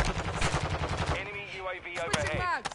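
Rapid SMG fire from Call of Duty: Modern Warfare 2 crackles in a fast burst for about a second, then a voice talks over scattered shots.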